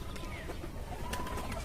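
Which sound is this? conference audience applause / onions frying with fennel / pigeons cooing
pigeons cooing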